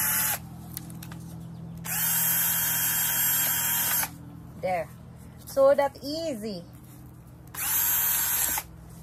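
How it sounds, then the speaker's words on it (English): An electric drill whirs in several bursts, driving screws, with a person speaking briefly between the runs. "So I just decided to get this drill."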